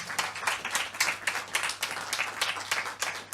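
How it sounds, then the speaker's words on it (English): Audience applause for Daisy at a PechaKucha talk night in Derby, a steady patter of many hands clapping at moderate distance, filling the whole stretch without talk. "Can we just have another round of applause for Daisy, please?"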